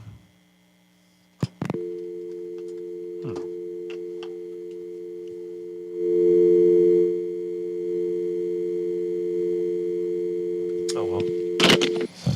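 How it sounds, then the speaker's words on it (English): A steady dial tone from a voice over IP desk phone hums continuously through most of the stretch, with a few clicks around it and someone briefly talking over it. "My phone has a dial tone."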